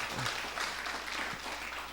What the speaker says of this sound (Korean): 큰 박수 한번 해주시기를 바랍니다.